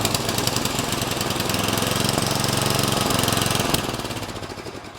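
A Yard Machines MTD 8hp 26-inch snow blower engine runs loud and steady right after starting, choking itself with a rough, knocking mechanical drone that eases slightly near the end.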